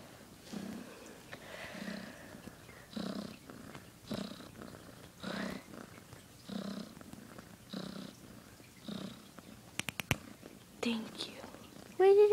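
A cat purring close up in a steady rhythmic cycle of low rumbling pulses, with faint whispering voices at times and a few sharp clicks near the end.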